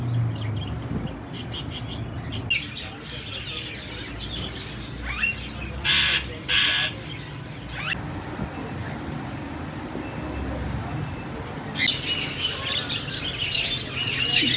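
Birds at a Sunday bird market in Rawalpindi, a dense mix of chirps, tweets and crow-like caws over a busy crowd murmur, with sharp bursts of calls and voices talking nearby.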